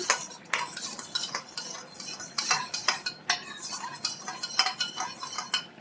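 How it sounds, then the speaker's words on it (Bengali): Sour yogurt with salt being whisked in a bowl, a fast steady series of close metallic scraping and clinking strokes, continuous and alone. "এই যে টক দইটা নুন দিচ্ছি দিয়ে ভালো করে ফেটিয়ে নিচ্ছি"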